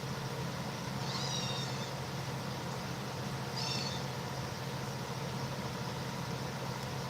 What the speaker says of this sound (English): Again, Pumpkin meowing in the background